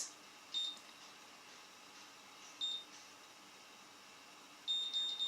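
Short high-pitched electronic beeps from a Babyliss Curl Secret curling iron in small clusters, spaced a couple of seconds apart, fairly faint over a quiet background.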